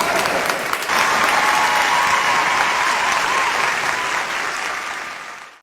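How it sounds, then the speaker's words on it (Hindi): A mushaira audience breaks into loud, dense applause right after a ghazal ends, holding steady for several seconds before thinning and fading out. "ताली बजाइए।"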